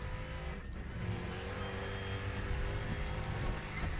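A Ford Mustang racing in Need for Speed The Run, its engine a continuous, fairly quiet roar with droning tones that rise and shift slightly as it speeds along.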